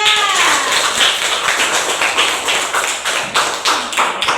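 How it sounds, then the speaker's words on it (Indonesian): Classroom applause for a student group presenting on the prophets and messengers: a dense patter of claps fills the clip at steady strength, with a brief voice or tone near the start. "tepuk tangan untuk kelompok 2"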